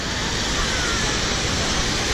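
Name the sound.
waterfall at a water park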